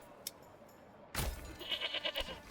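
Goats bleat in the medieval town-building game Manor Lords, a faint click followed by a sudden burst of several wavering bleats at close range.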